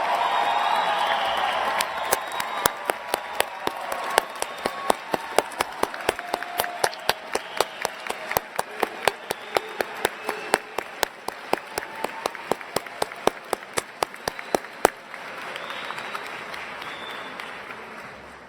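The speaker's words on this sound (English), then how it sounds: "give them another rousing round of applause in recognition of what they have achieved" An audience at a graduation recognition ceremony gives graduates a sustained round of applause, with dense clapping from many hands and some sharp individual claps standing out before it tapers off near the end.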